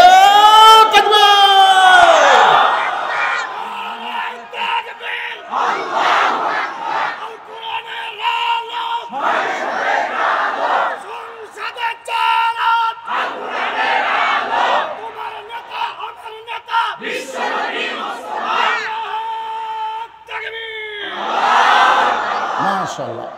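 A large outdoor religious gathering answers a preacher's takbir call, the crowd roaring Allahu Akbar in loud, repeated chanted bursts spread across the clip, with a single voice leading between the responses.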